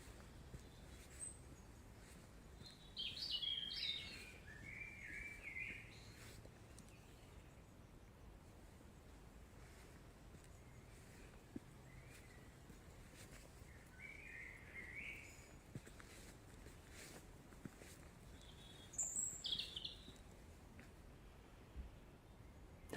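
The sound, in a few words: birds singing outdoors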